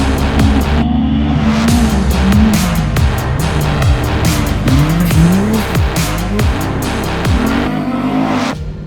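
Polaris RZR Pro XP Turbo S side-by-sides racing off-road, engines wailing up and down through repeated revs while tires skid and squeal over loose ground, loud and close with sharp bursts of grit throughout.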